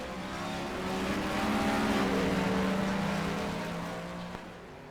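Race cars, including an Aston Martin and a Viper, roar around the Interlagos track during a three-hour race, their engines droning and swelling as they pass, loud and continuous with no talk.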